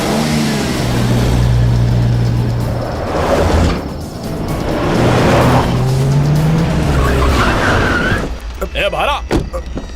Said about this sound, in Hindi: हम सब लोग अपनी गाड़ियों को लेकर उसका पीछा करने लगे।